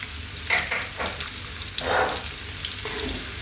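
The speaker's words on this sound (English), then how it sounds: "Just going to get those onions in." Onions, oregano and chopped garlic frying in a pan, giving a steady close sizzle with a few brief stirring scrapes and clatters.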